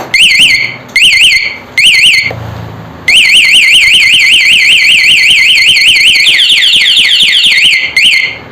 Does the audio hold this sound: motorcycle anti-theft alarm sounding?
yes